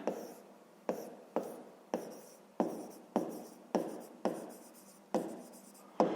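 A pen scratches out fractions by hand on paper in a steady run of about eleven short strokes, each starting sharply and then fading, close and quiet with no voices.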